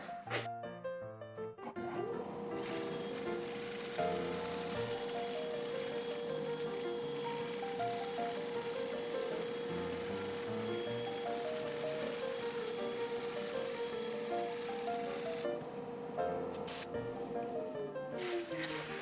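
A wooden natural-edge bowl on a lathe running in reverse is sanded up to fine 320 grit, giving a steady, continuous whirring roar of the spinning work and abrasive that holds close and loud throughout, with no talking.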